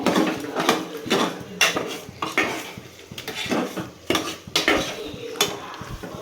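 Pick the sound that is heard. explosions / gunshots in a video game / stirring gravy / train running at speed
stirring gravy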